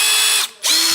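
Ridgid Gen 5 power drill whirs loud and close at high speed, briefly dipping in pitch and level mid-run before spinning back up.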